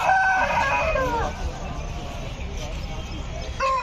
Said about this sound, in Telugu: కోళ్ళు చూడండి మీకు చూపిస్తాను నేను క్లారిటీగా